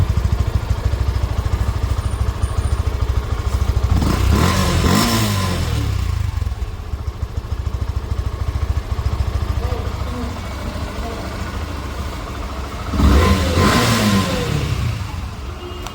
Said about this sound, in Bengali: গাড়িটির সাউন্ড দেখুন।